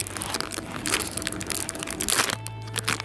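Zip-lock pouch of a South Korean military ration being opened by hand, close-up plastic crinkling and crackling with a sharper rip of the seal near the end.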